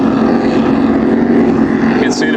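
A racing powerboat's engine roars loudly and steadily as it passes close by the finish during a race, porpoising slightly, a dense mechanical drone with a brief higher whine near the end.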